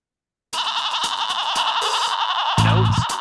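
Goats bleat loudly and repeatedly, their wavering cries layered over one another at close range, with a deeper, heavier bleat breaking in near the end.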